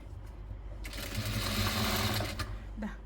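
A sewing machine stitches fabric for a nightie, starting with a few soft taps and then running in a fast, close, steady whir for about two seconds before slowing and stopping.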